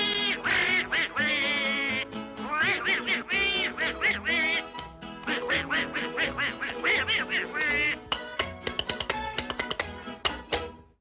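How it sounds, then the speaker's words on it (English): Disney's Donald Duck quacks in his garbled, nasal cartoon voice from an animated film, a rapid run of loud squawking syllables in bursts, with no other voices. "Disney's Donald Duck is 80 years young"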